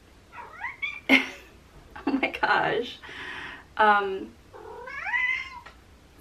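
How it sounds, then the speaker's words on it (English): A pet cat meows several times indoors, close and fairly loud, its drawn-out rising calls alternating with a person's voice speaking briefly between them. "Sorry, the cat's in here."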